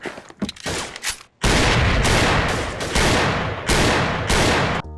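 Rapid pistol gunfire at pop-up targets in the VR shooting game GUNCLUB VR: a few sharp, separate shots at first, then a loud, dense, near-continuous volley of overlapping reports with no talking.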